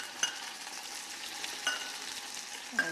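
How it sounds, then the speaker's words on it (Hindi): Grated garlic, crushed ginger and two chillies frying in a pan, the base for a sweet-and-sour tomato chutney, make a soft, steady sizzle with a few light utensil ticks. "इनको ही फ्राई कर लेंगे।"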